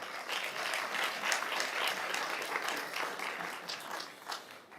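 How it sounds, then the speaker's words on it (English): An audience at a school board business meeting applauds student athletes with a dense, sustained round of clapping that stays at a fairly even level from start to finish, with no voices over it. "a round of applause for them"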